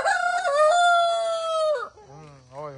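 Rooster on a farm gives a loud, drawn-out crow lasting nearly two seconds, followed by softer clucking from hens, close to the microphone after rain.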